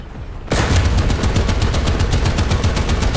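Gunfire in a tank battle game: after a half-second of quiet, a sharp onset leads into a fast, evenly spaced burst of loud shots that continues to the end, close and with no voices.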